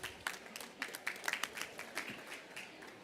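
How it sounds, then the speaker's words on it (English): Audience applause at a conference on sustainable livestock systems, a soft, fairly distant patter of scattered clapping that swells briefly and fades over a few seconds. "I hope you can hear the applause from the audience"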